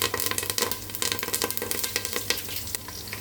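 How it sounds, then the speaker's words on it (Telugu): Spices and curry leaves sizzle in hot oil as tempering for sambar, a close, crackling fry with rapid irregular pops and spurts over a steady hiss, with no talking. "తాలింపు వేగుతుంది కదండి"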